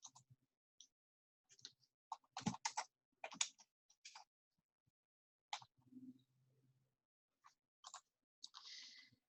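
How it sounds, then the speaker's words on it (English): Someone types on a computer keyboard in short, irregular bursts of clicking separated by pauses, quiet and close by, with no talking. "I'm typing this here so you guys can see this"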